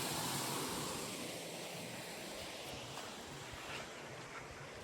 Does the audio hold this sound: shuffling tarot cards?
no